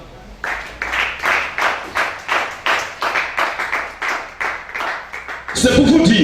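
A church congregation claps in a steady rhythm during a service, with evenly spaced bursts about twice a second, close and fairly loud, ending in a louder swell of mixed noise.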